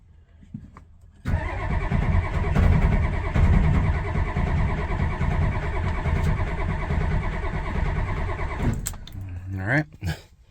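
A 6.9 IDI diesel engine with bad fuel cranks briefly, then fires and settles into a loud, steady clattering idle for several seconds before cutting off, with speech near the end.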